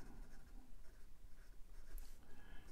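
Kanwrite fountain pen with a wet medium nib, either acrylic Heritage or ebonite Legacy, gliding over paper in soft, faint scratchy strokes with brief pauses, quiet and close with no speech.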